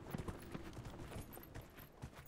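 Horse hooves clip-clop steadily in the Dragon Age: Inquisition video game, a continuous, fairly even trotting rhythm over dense game ambience.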